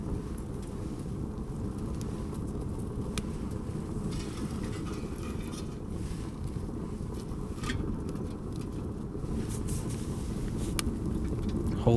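A DIY paint can stove in a hot tent roars steadily as it drafts hard with its flue wide open, a continuous low rushing rumble with faint crackles and ticks over it.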